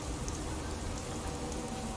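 Soft, steady rain patters continuously in the video game Fallout 76, a quiet even hiss with no other sounds over it.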